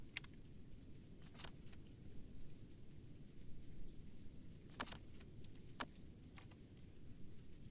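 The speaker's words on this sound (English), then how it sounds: "I thought I heard rain." Light rain from the video game Amazing Cultivation Simulator, a steady dense hiss of falling drops with a low rumbling undertone and a few brief sharper crackles, continuous and fairly faint.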